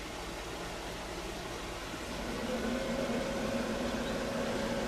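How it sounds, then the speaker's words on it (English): Portable fridge running on a Jackery Explorer 500 power station charged by solar panels, giving a steady mechanical hum with a faint tonal whine that grows slightly louder partway through. "I can hear the fridge running"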